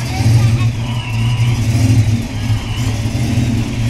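A 2005 Ford Mustang engine runs loud and steady nearby, a low throaty rumble with slight swells as it is revved, while a person talks over it.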